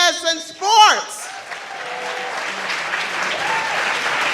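Applause from a dinner celebration audience rises after a brief voice, then settles into steady, moderately loud clapping from a room full of people.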